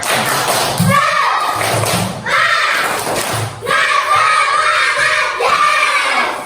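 A classroom of primary school children does a rhythmic group clapping cheer, loud and close, with bursts of claps and shouted chant in repeated phrases separated by short pauses, while an adult voice speaks briefly between them.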